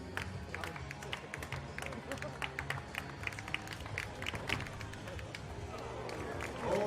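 A crowd at an athletics meeting applauds with steady, dense clapping that carries from a distance. A commentator talks over it, and the applause swells slightly toward the end.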